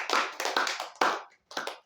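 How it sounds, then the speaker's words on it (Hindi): A church congregation clapping for God during a Hindi-language sermon, several quick bursts of hand claps that stop and then come back briefly, close and fairly loud. "परमेश्वर के लिए ताली बजाए हम लोग"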